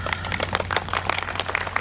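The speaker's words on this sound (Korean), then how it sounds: "근데 왜 교육청 직원들만 박수 쳐요?" A small group of staff in a policy talk-concert audience clapping, a brief scattered patter of hand claps over a low steady hum.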